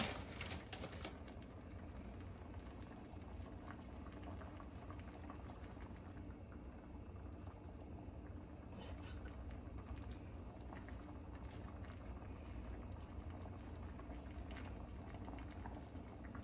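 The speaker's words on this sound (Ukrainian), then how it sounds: "І даємо йому 20-25 хвилин так покипіти на маленькому, такому середньому вогні" Tomato sauce with stuffed pasta nests and cutlets simmers under a lid on low-to-medium heat, giving a steady, continuous bubbling close by that runs the whole time with no talking.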